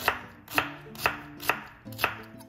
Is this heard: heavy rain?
no